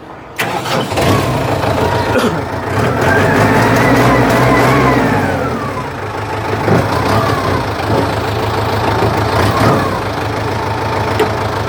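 Used Kubota M7040 tractor diesel engine running steadily nearby, a loud continuous rumble with a slight rise and fall in pitch throughout.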